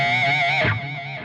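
An electric guitar note rings through a delay effect on an ENGL Steve Morse Signature 20 tube amp, sustaining with a bright harmonic tone and then dipping slightly as the repeats carry on, with no voices.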